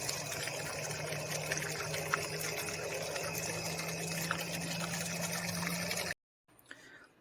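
A steady, fairly quiet trickle of water runs into a garden fish pond with a faint pump-like hum underneath, cutting out briefly near the end.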